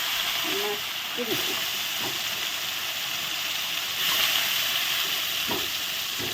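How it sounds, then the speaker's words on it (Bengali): Bam fish, a river eel, frying in plenty of hot oil makes a steady, loud hiss and sizzle close by, with a voice speaking faintly underneath. "আমি তেল বেশি করে দিয়েছি তা একবারেই ভেজে নিচ্ছি"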